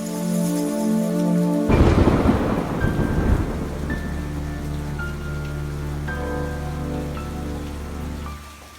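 A heavy thunderstorm rolls through with a loud thunder crash early on, then a long rumbling tail over constant dense rain hiss, near and full, with no voices.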